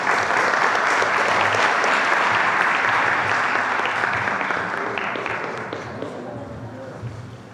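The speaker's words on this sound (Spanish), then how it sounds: "Les damos un aplauso y una foto" An audience at a presidential press conference breaks into loud, dense applause with many hands clapping together, gradually thinning and fading toward the end as scattered voices rise.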